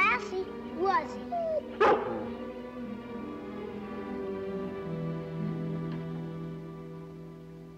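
A dog barks a few times near the start of a classic Lassie television scene, sharp close barks mixed with people talking, then a calm outdoor hum with voices continuing.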